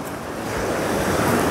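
Surf washes onto an amusement park beach on the Sea of Azov, a steady broadband roar that swells slightly toward the end, mixed with wind and no voices.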